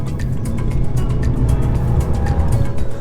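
A 2023 BMW M240i on the road, its engine and tyre drone a steady, loud low rumble with road noise throughout, no voices.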